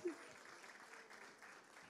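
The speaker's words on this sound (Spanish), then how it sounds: "claro, un aplauso para ella." Faint applause from a small audience at a talk, a brief spatter of clapping under a quiet room tone, with no voices over it.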